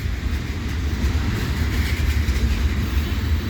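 A CPKC freight train hauling many new tank cars rolls past at Adelaide Street in London, Ontario, giving a steady close rumble with faint rhythmic wheel clatter throughout and no talking.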